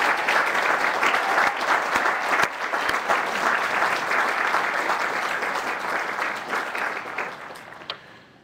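An audience at the Colby College Class of 2011 commencement applauds the physical plant staff: sustained, full crowd clapping that holds steady, then thins and fades out at the end.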